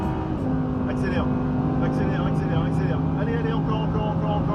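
Exceptional sports car accelerating hard on a Mediterranean road, a loud sustained engine drone with a rising tone, heard from inside the cabin while a voice speaks over it.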